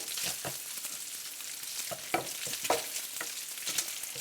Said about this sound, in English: just put your bacon in, cook, get that started, and then add the sausage